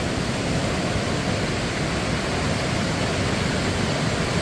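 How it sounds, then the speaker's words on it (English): Whitewater rapids of the Niagara River surge from the canyon floor in a steady, dense roar, loud and close, unbroken throughout with no voices over it. "Some powerful water."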